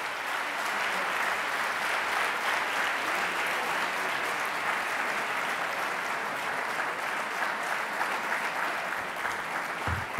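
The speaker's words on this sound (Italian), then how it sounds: "Potete anche alzarvi in piedi per applaudire Alvin Rabusca" Steady, dense applause from a conference audience continues evenly for about ten seconds, moderately loud with no voices over it.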